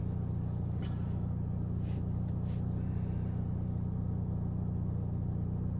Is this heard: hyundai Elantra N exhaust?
yes